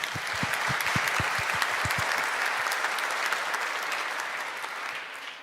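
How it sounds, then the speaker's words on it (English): Applause at the close of a talk at the NG-DE Berlin 2025 Angular conference, dense and steady from a large audience, with a few low thumps early on, sustained throughout and tapering slightly at the end. "Round of applause for Arun."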